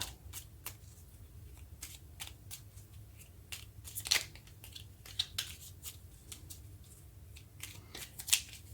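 Tarot cards get shuffled and drawn from a deck, a string of soft, sharp flicks and riffles with a couple of louder snaps, close and quiet with no talking.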